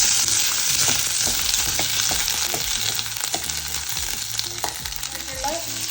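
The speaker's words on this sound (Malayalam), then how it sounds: "പിന്നെ വെളിച്ചെണ്ണ ഇട്ടിട്ട് ഉള്ളി വാട്ടുക." Sliced onions sauté in hot coconut oil for a Kerala-style onion sambar, giving a loud, close, continuous sizzle and crackle with soft music faintly underneath.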